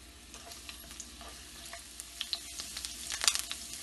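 Garlic frying in oil in a home kitchen, a soft, steady sizzle with scattered pops and crackles, faint and close, building slightly toward the end, with no talking.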